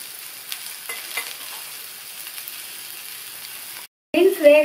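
Beans poriyal being stirred with coarsely ground powder in a pan gives a soft, steady scraping and faint sizzle. A short silent gap follows, then voices and louder kitchen clatter.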